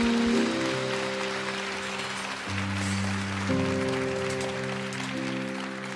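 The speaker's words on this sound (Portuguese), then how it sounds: "Se for para ele, aplauda bem forte." A church congregation claps steadily and moderately loud beneath sustained organ or keyboard chords during a sermon.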